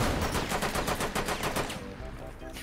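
Rapid gunfire from a Rainbow Six Siege match, a dense run of evenly spaced shots at full loudness that thins into scattered, fainter bursts toward the end.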